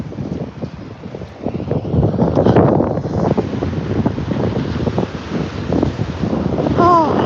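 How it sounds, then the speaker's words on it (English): Strong wind batters the microphone beside a wild, rough ocean, a loud sustained roar with surging gusts, and a voice rises briefly near the end. "And it's windy, so I'm not sure if you can hear me very well."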